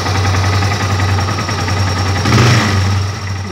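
A Yamaha XT225 motorcycle idles up close during carburetor air-screw adjustment, a loud steady thumping engine note that briefly rises in speed before settling back.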